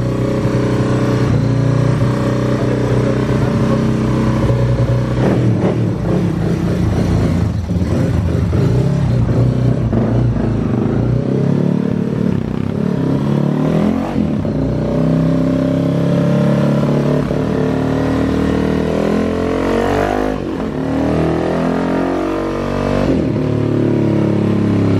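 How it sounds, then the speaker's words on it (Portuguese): A Honda XRE 300 motorcycle built up to 400cc revs hard close by, its engine roaring steadily and then rising and falling as it rides past, loud and alone throughout. "Rapaziada, vai passar a moto aqui no Dino agora. XRE 400 cilindrado, ó"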